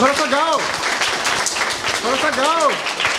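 Audience applause at a school gathering at Sardokpo Ronghang Memorial Academy, a steady patter of clapping that runs through the whole stretch beneath a melodic voice that rises and falls twice.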